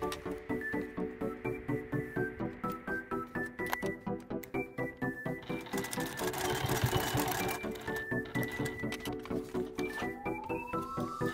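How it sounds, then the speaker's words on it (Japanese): A sewing machine stitches a square into a fabric shoulder strap made from scrap cloth, its needle chattering in a fast, steady rhythm with short pauses and shifts in pace, close and clear with no talking. "しっかりと留めたいので四角く縫いました。"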